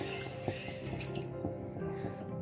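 One cup of water poured onto sugar in a cooking pot while making atte ka halwa: a close, gentle liquid trickle and splashing with small drips, running steadily for a couple of seconds, no voices.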